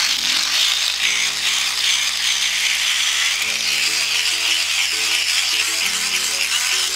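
A hand-crank phone charger being turned by hand, making a continuous gritty whir of small gears, with its pitch stepping up and down as the cranking speed changes.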